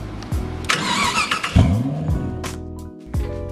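A car engine cranks over and catches, with starter whine, sputtering turnover and short revs in a few bursts, heard close and alone.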